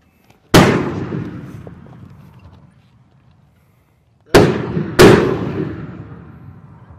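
Three heavy blasts of rounds fired from a UH-1Y Venom helicopter during close air assault training, one booming report followed later by two close together, each with a long rolling echo that fades.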